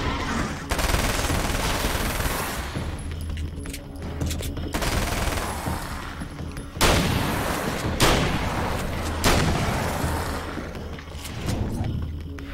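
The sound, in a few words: gunfire from the video game Alan Wake's American Nightmare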